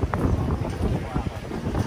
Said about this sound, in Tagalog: Sobrang mahangin.